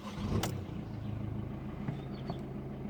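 A car engine is started from inside after a brief crank, then settles into a steady idle hum, fairly quiet and close.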